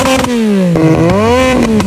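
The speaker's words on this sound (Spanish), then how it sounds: "¿cuánto calificas el sonido de esta moto?" A motorcycle engine revs close and loud, its pitch swelling, dipping and climbing again in one continuous pull, with no voices over it.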